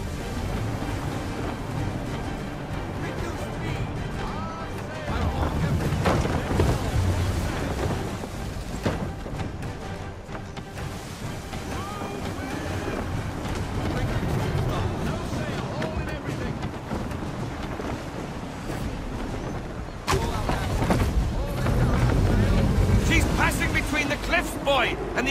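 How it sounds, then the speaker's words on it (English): A sailing ship moves across the sea in the Assassin's Creed 3 Remastered video game, with a constant roar of wind and waves that swells in places, plus a voice speaking over it. "Given the way you sail, can the ship go no faster?"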